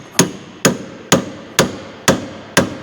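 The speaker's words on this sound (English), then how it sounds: "So as you hammer it in, it's forcing it apart." Six sharp metallic hammer blows at an even pace, driving a tapered fork tool into a joint on a Mercedes W208 CLK, each ringing briefly before the next, loud and close.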